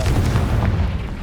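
A Confringo fire spell explodes in Hogwarts Legacy, a single loud, close, booming blast with a rumbling body that fills the short moment.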